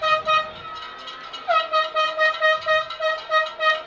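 A train horn blares in repeated pulsing blasts over a murmuring crowd at a high school football playoff game, starting with one long held tone and then sounding in rhythmic bursts.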